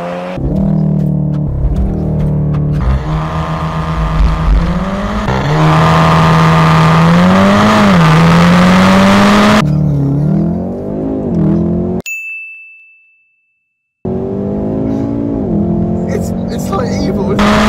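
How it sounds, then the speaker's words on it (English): Volkswagen car using launch control, the engine revving and then pulling hard with rising and falling pitch, loud and close from inside the car, with people talking over it. "Put your foot on the revs. Launch car activated."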